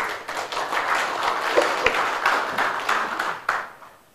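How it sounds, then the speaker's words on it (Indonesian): Applause from an audience at a morning talk event with regional leaders, a sustained wash of many hands clapping with a few sharper claps standing out, fading away at the end. "Tepuk tangan untuk beliau."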